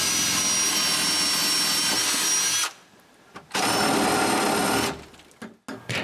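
An electric drill bores bolt holes through a wooden shutter: a loud, steady high whine runs for a couple of seconds, stops, then starts again for another long burst before a few short trigger pulses.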